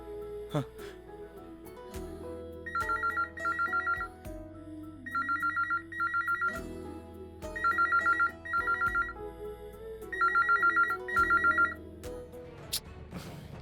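A telephone rings while a call is placed to a grandfather: paired electronic ring bursts repeat at a steady rhythm, about five pairs in all, over a low background hum with some faint household noise.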